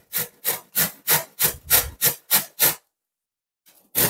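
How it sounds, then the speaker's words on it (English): Vegetables for creamy coleslaw rubbed against a hand grater in nine steady, evenly spaced rasping strokes, close and fairly loud, followed by a pause and the start of another stroke. "So I'm using the grater."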